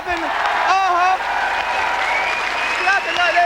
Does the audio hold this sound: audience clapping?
yes